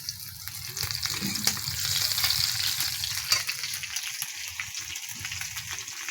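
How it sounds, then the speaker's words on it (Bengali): Chopped onion frying in oil in a wok, a bright continuous hiss and crackle up close, with a few low knocks from stirring, steady and moderately loud without speech. "এই যে একটুখানি পেঁয়াজ কুচি দিলাম"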